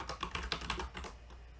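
Fast typing on a computer keyboard, with a quick run of soft, close key clicks in an uneven rhythm that thins out toward the end, alone and fairly quiet.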